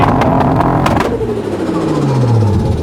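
A car engine revs hard at a supercar sound-off during a track weekend at Beaulieu, loud and close, with sharp throttle blips followed by a falling rev as the engine settles back to idle.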